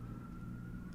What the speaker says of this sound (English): if you can hear sirens in the background